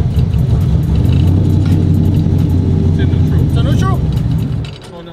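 Sequential burnout truck engine holding a steady, loud low rumble as the driver eases off the clutch and feeds a little gas, with faint chirps and a slight drop in level near the end.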